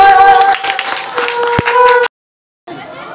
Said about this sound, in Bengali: সবাই একসঙ্গে করতালি দেওয়া